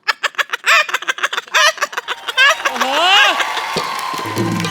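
A performer on a stage comedy show imitates a hen with a rapid string of loud, close clucks that rise into drawn-out squawking cackles, then fade as a crowd murmurs.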